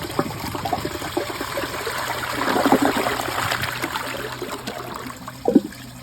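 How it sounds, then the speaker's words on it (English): A 2005 Crane toilet flushing: a steady rushing, gurgling flow of water that swells midway, then trails off into trickling with a small splash near the end. "Let's give it a flush."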